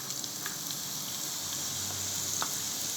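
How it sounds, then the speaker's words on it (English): Zucchini sizzles vigorously in boiling butter and oil over very high heat, a constant close crackling hiss with small pops and no talk. "Make sure that all the butter and oil is basically boiling for our zucchini"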